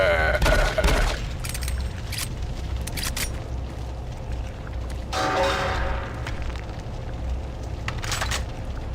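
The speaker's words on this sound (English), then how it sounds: "What a good old simple machine gun." Rapid automatic fire from a simple machine gun in Doom 3, loud bursts at the start and again midway, over a constant dense game soundscape with explosive booms.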